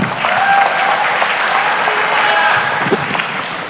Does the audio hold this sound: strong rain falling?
no